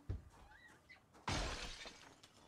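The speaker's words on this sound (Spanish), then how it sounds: "Bueno, pues él ha decidido romper un cristal nuevo, claro que sí." A glass window shatters in the zombie survival game Project Zomboid: a sharp, loud crash with tinkling debris trailing off, preceded by faint in-game sounds.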